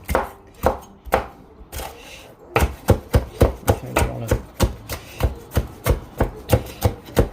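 A knife chops a de-seeded bell pepper on a cutting board, a few sparse strikes at first, then a fast, steady run of sharp, close taps with no one talking.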